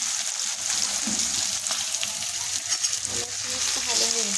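Tomato, onion and cabbage sauté in oil in a pan, a constant bright sizzle with a few stirring scrapes, and a voice speaks over it near the end.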